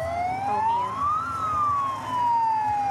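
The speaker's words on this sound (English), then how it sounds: "you just hear that sound every morning when you're walking into school, that little siren" One long wailing siren sweep rises and then slowly falls, loud and fairly close, over a low background rumble.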